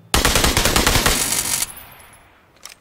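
Very rapid automatic gunfire in the PUBG video game, fired by a mouse macro, a loud dense burst of shots for about a second and a half, then a fading tail and a couple of faint later pops.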